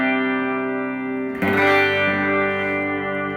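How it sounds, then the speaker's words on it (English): Electric guitar through a worship pedalboard with a compressor pedal switched on, a sustained chord ringing smoothly before a fresh strum lands and sustains evenly, loud and clear with no talking. "So that's with the compressor on"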